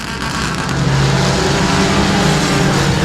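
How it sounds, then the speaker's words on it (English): Race cars at Timberline Speedway roar together in a loud, continuous engine drone with a steady mid-pitched hum, sustained without pause and no talk over it. "And here comes Rossum trying to fight to the inside of the 4G."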